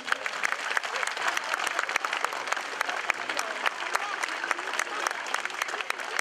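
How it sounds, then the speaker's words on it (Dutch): A crowd claps for children who made poems and tiles at a Liberation Day run event, a steady round of sharp handclaps from a mid-sized audience outdoors. "een groot applaus voor hun betrokkenheid"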